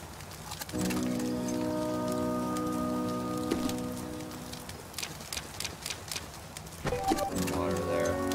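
Steady rain falls in the survival video game The Flame in the Flood, a constant hiss of drops hitting the ground, with sustained music tones over it and a few brief in-game sound effects.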